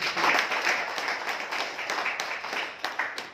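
A crowd claps enthusiastically after a speaker in Ahmednagar calls for loud applause, with a continuous wash of many hands clapping that stays fairly loud throughout.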